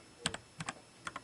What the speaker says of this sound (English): Mark's typing hard.